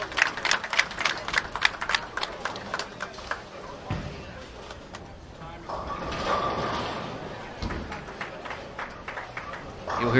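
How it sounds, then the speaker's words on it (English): Spectators cheering and clapping at a women's bowling tournament, rhythmic claps and shouts behind a commentator's voice, with a swell of crowd noise midway and clatter from the lanes. "You'll hear the cheering behind us for Liz Culkin"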